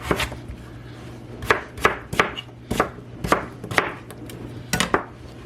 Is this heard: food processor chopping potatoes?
yes